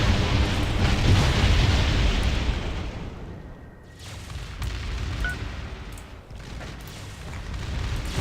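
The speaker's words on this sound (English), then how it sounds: "Let me just have the troopers bombard it" Troopers bombarding a planet in the space strategy game Distant Worlds Universe, a loud rolling rumble of blasts that swells, eases, then surges again in heavy continuous bursts.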